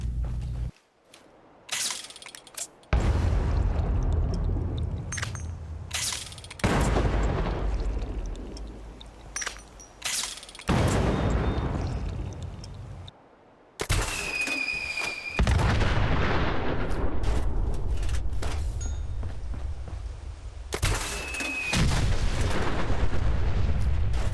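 A Nuka quantum grenade and its explosions in Fallout 4 set off a series of loud, close booms and blasts, with several bursts and rumbling tails across the span, some marked by bright ringing tones.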